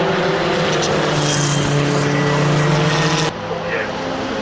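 Historic Formula Ford 2000 race cars battling at Brands Hatch, a loud sustained engine howl from close-by cars at full throttle that drops abruptly in pitch near the end as they pass, with no clear talk over it.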